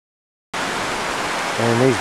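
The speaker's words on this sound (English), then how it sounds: "And these waterfalls probably won't be here tomorrow." A bush waterfall near Canyon Creek roars as a broad, steady wash of rushing water. It starts abruptly after a short silence and keeps a constant loud level, with a brief voice near the end.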